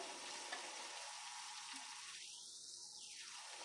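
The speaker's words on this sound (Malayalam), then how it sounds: "ഈ വരളുന്ന സമയത്തുകൊണ്ട് നമുക്ക് ഈ കറിവേപ്പില ഇടാം" Curry leaves dropped into hot oil for a Kerala fish curry, a bright steady sizzle and crackle, close and fairly quiet, with no talking.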